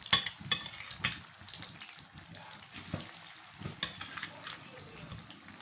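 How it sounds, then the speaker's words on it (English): Plantain frying in hot oil makes a soft bubbling sizzle with clinks of a utensil against the pan, while a voice talks over it. "I have to put the plantain inside and fry it."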